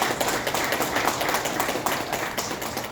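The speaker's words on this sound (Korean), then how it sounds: "네, 박수 부탁드리겠습니다" Audience applause at a public peace and unification forum, a dense, steady wash of many hands clapping for three seconds with no one speaking over it.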